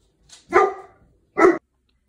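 A small dog guarding the house barks at a knock on the door: a soft yip followed by two sharp, close barks with a short gap between, then quiet.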